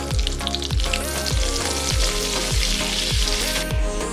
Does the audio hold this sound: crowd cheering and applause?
no